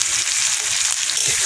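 Potatoes hitting a hot pan of cooking meat and greens fry with a steady, close sizzling hiss that holds evenly throughout, with no talking.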